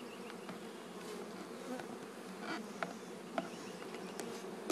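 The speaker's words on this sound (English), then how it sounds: "There's a bee right there." Honey bees buzz densely and close during the installation of a package of bees into a hive, a steady swarm drone with a few sharper passes and faint knocks.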